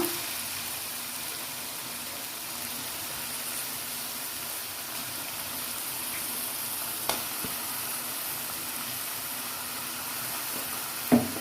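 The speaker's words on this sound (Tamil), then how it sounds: "சிக்கன் போட்டுட்டு அது நல்லா கொஞ்சம் எண்ணெயிலே வதக்க விடணும்." Chicken sautéing in hot oil with ginger, garlic, onion and tomato while making chicken gravy, giving a steady broadband sizzle throughout with a couple of sharp stirring clinks near the end, no voices.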